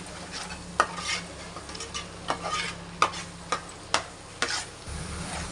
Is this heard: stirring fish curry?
yes